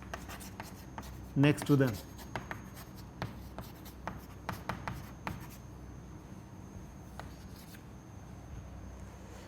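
Chalk or pen scratching out equations on a board during an engineering lecture on similitude and modeling, a steady series of short taps and strokes, close and moderately loud, with a lecturer briefly speaking.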